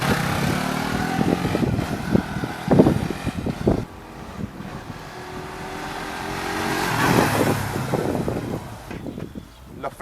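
Suzuki GSX-R 150 motorcycle ridden through a town, the engine note rising and falling through gear changes under heavy wind buffeting on the microphone, with some brief gaps in between.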